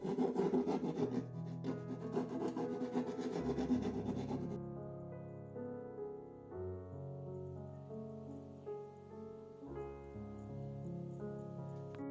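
Wood of a tagelharpa frame is rasped with a file in quick scraping strokes for a few seconds, then the scraping stops and steady tonal sounds carry on quietly.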